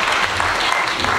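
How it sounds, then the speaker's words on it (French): Loud, dense applause from a church congregation during a sermon, a continuous close patter of many hands with no break. "applaudis énormément le Seigneur Jésus"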